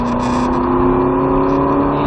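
Ferrari California T accelerating on a race track, a loud, steady engine drone with a strong sustained tone, close and continuous for about two seconds.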